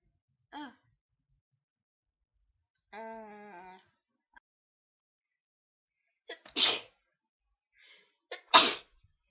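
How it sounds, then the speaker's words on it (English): Sneezing repeats from one person: a short sharp sneeze, a drawn-out voiced inhale, then two loud, explosive sneezes in close succession after brief gasps, each one near and isolated against silence. "I can't stop sneezing now."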